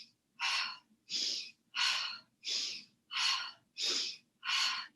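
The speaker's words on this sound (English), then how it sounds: "Inhale left, exhale right." Forceful yoga breaths during spinal twists: seven sharp, evenly spaced rushes of air alternating inhale and exhale, close and loud with short silences between, no talking.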